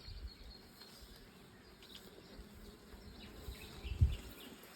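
Honeybees from a small apiary at the foot of Sredna Gora mountains, a faint steady buzz of insects hovering in open air, with a brief louder thump near the end.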